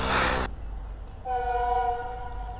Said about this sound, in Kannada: ಇವಾಗ ಟ್ರೈನ್ ಬರ್ತಾಯಿದೆ